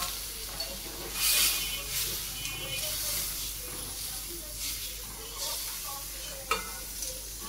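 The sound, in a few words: dal sizzling as it is tempered with five-spice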